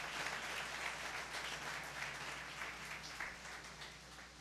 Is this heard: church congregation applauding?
yes